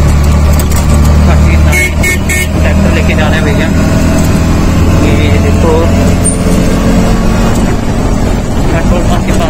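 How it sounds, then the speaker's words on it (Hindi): A ride through Delhi traffic in an auto rickshaw, with a steady engine drone and rumble, wind buffeting and passing road noise throughout while passengers talk over it. "ऑटो में बैठ गए हम लोग"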